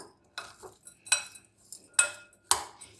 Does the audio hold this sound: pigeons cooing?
no